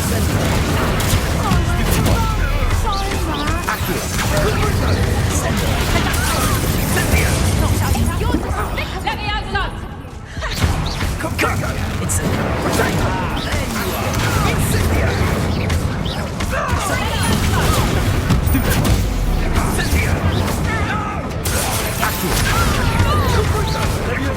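Confringo fire spell explosions during a duel in the Hogwarts Legacy video game: dense, continuous booms, crashes and shattering bursts layered with spell effects, loud throughout, with voices shouting over the action.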